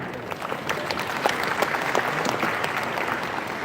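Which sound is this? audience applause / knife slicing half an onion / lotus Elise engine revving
audience applause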